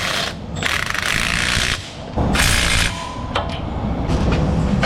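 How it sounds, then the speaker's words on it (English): Extended gear wrench ratchet tightening bolts on a Chevy Equinox during brake work, with bursts of rapid clicking close up, pausing briefly between strokes. "I'm going to tighten it with it"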